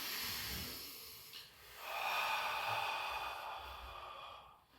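Slow, deep breathing during a stretching exercise, a long airy exhale swelling and fading over a few seconds, close and fairly soft with no talk.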